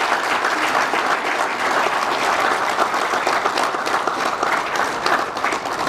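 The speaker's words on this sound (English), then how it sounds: "let's give him another round of applause" A morning gathering of a university football team applauds a guest named LaVar, steady dense clapping from a large room holding at an even level for the full six seconds.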